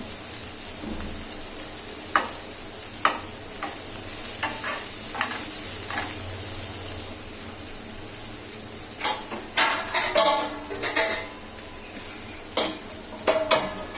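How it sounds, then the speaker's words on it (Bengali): Cauliflower frying in a pan gives a soft, continuous sizzle, broken by sharp scrapes and clinks of a utensil stirring against the pan, clustered toward the end. "ফুলকপিটি সিদ্ধ হয়ে গিয়েছে ভাজা হয়ে গিয়েছে"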